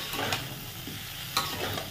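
Spices with salt for a potato and pointed gourd curry fry in a pan with a steady close sizzle, while two or three quick spatula scrapes cut through.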